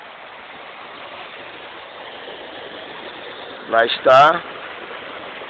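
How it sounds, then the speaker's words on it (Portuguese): Water flows steadily into a settling tank at a water treatment plant, a constant rushing wash heard close, with someone speaking briefly over it near the end. "a entrada de água para novamente encher o decantador para colocar ele em operação"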